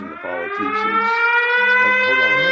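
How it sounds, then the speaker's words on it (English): A wailing alarm siren goes off loud and close, its rising, sustained tone dominating while someone speaks briefly at the start. "That was my alarm going off"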